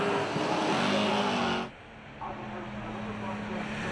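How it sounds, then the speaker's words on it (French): A NASCAR Whelen Euro Series race car at Monza brakes hard and spins at the first chicane, its loud engine roar cutting off abruptly partway through, followed by a lower rumble as the car settles. "Vous allez le voir, Quintal part en tête à queue à la première chicane."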